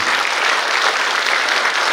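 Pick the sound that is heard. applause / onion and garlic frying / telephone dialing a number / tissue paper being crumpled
applause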